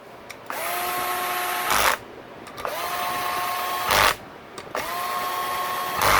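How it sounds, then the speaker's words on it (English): A Black & Decker power drill seating bolts on a Yamaha YZ450F motorcycle engine during a top end rebuild: three close whirring bursts, each about a second long, with short pauses and clicks between them. "now I'm going to go ahead and seat these bolts down. And use my handy dandy Black & Decker."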